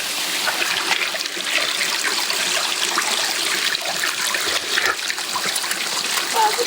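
Water rushes and splashes steadily at a stream crossing in a burned area of Montana, a close, continuous broadband wash with small bursts of spatter and no voices over it.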